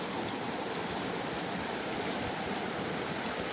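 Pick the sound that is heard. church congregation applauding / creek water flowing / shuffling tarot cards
creek water flowing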